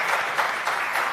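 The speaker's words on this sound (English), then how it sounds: "They deserve a bigger round of applause than that." Brief, dense applause from a crowd welcoming Mercedes technical directors at the unveiling of the 2022 W13 Formula 1 car, a steady wash of clapping with no voices.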